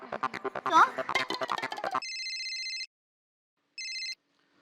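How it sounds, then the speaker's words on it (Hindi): Telephone ringing indoors, an electronic trilling ring of about a second, a pause, then a shorter second burst, clear and close after a woman's speech ends. "मैं अभी टप्पू के पापा को फोन करती हूँ"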